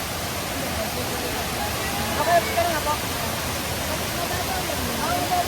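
Steady broadband rush of water pouring out of a cave at a swimming spot in Bicol, a loud continuous wash with people talking over it.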